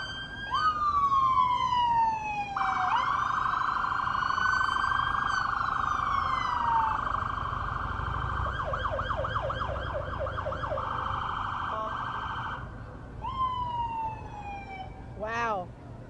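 Police sirens wail and yelp loudly nearby at a children's parade in Dayton, cycling through rising and falling tones and rapid warbling bursts over the rumble of passing vehicles.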